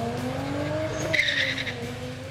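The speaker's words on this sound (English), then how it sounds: "Then it's off to the quarter mile for some full throttle fun" A street-legal car launching at full throttle on a quarter-mile drag strip, engine roaring with a brief tire squeal mid-run, loud and close without any voices.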